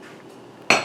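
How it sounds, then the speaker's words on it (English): Glass canning jars for jelly clinking together as they are stacked in a canner, a single sharp, close clink after a quiet moment. "And I'll set my other jars on top of that."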